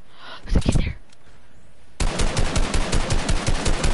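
Gunfire in a shooter video game: a couple of loud shots first, then a fast, steady burst of rapid automatic fire, close and punchy, with no talk.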